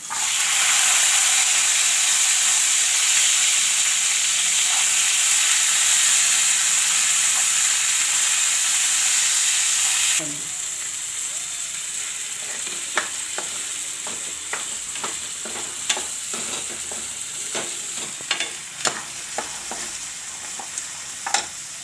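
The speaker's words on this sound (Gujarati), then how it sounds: "હવે આપણે આ વાલોળના બી નાખી દેવું" Valor bean seeds tipped into hot oil in a pan burst into a loud hissing sizzle, then the frying settles lower as a spoon stirs with scattered clinks and scrapes.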